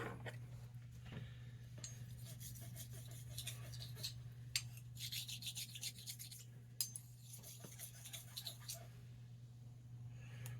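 A knife blade is stroked across a Coticule hone, giving soft, steady scraping rubs over a constant low hum, with a few small clicks and no talking.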